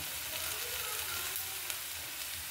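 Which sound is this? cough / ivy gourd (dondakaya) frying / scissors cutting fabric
ivy gourd (dondakaya) frying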